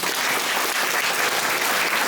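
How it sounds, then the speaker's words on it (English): An audience applauds museum staff at an opening event, a dense, even clapping that stays steady and fairly loud for the whole stretch with no voices on top. "Big round of applause for RMG staff."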